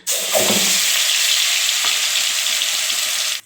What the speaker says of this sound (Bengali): তেল গরম হয়ে গেছে, তেলের ভিতরে আমি দিয়ে দেবো আদা, রসুন আর কাঁচা লঙ্কা পেস্ট